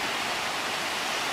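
Loud, steady rush of whitewater from a wild water wave, a broad continuous roar close by with no pauses and no voices.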